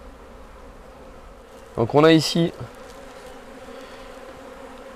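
Honeybees and larger drones buzz steadily at an opened hive, a soft continuous hum beneath a brief burst of French speech.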